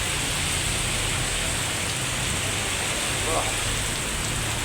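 Steady rain falls in a constant dense hiss, close and unbroken throughout.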